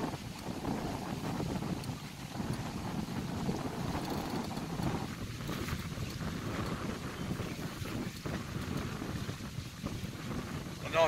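Strong south wind buffets the microphone in a constant roaring rush while catfish fishing on the Rhône in the Camargue, with faint water and boat noise beneath, lasting throughout.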